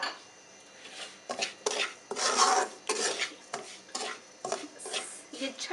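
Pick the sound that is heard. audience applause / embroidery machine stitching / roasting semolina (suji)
roasting semolina (suji)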